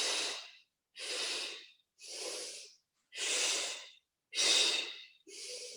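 Steady, rhythmic breathing during a Pilates exercise for osteoporosis, six distinct breaths about a second apart, each a close, airy exhale separated by brief silences.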